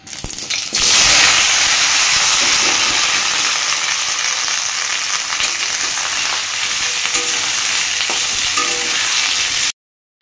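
Soybean chunks, potato and pointed gourd drop into hot mustard oil and set off a loud, close, steady sizzle that runs unbroken for about nine seconds, with a few faint stirring knocks, then stops abruptly.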